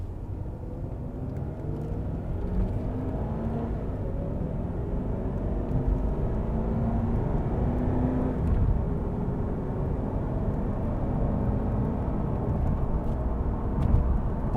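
A 2002 Jaguar XKR pulls away and accelerates, its engine rising in a steady, moderately loud drone with broadband road rumble heard from inside the cabin, no talking over it.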